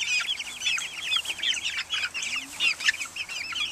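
Young chickens in a chicken tractor on a small farm cluck and cheep continuously, close and busy, with overlapping calls and no speech.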